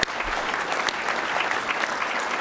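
Audience applause in a conference hall at a law society annual conference: sustained, even clapping from many people, moderately loud and steady throughout, with no voices over it.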